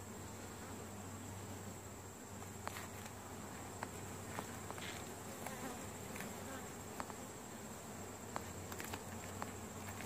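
Honey bees hum and buzz in a dense, steady drone at an open hive with combs of brood, eggs and honey, punctuated by occasional close ticks and taps.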